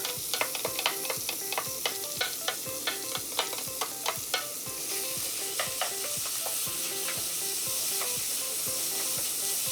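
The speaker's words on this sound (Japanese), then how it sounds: "ダマにならないようにちょっとねしっかりこうやって混ぜていきますね" Steady sizzling of ground pork frying in sesame oil with garlic and ginger in a pan, with a quick series of scraping, clicking stirs from a utensil against the pan; no talking.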